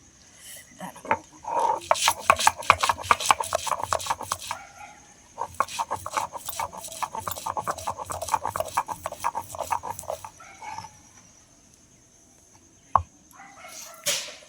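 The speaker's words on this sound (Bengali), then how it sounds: "এই যে এটা ধনে পাতাটা হচ্ছে শিলনোড়ায় বেটে নেব" Coriander leaves are ground on a stone slab with a grinding stone (shil-nora), giving long bursts of rapid, rhythmic rough scraping and rubbing, close and fairly loud, with pauses between strokes.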